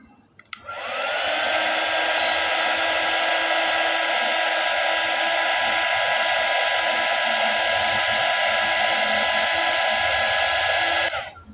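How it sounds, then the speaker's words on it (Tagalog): A heat gun blows hot air onto a rewound electric fan stator, switching on with a click and then holding a loud, steady, high-pitched whirring hiss that cuts off at the end. "Gamitan lang natin ng heat gun"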